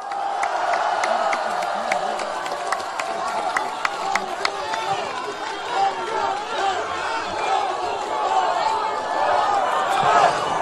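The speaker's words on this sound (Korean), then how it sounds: "여러분 큰 박수로 맞아주십시오" A large crowd at a political rally claps and cheers steadily and loudly throughout, with whoops and scattered shouts rising above the dense applause.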